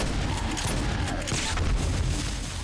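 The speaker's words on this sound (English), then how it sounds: "Sounds like the turrets are doing a little bit of work." Automated defensive turrets in 7 Days to Die fire a dense, rapid burst of shots during a night horde attack, loud and continuous with booming low thuds.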